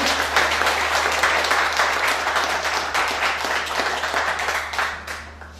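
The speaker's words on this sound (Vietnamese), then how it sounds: "Xin quý vị cho một tràng pháo tay cho anh Trinh Nguyên" Enthusiastic applause from an audience at a Vietnamese-language talk on the East Sea dispute welcoming a speaker, a dense flurry of clapping that holds steady and then tapers off near the end.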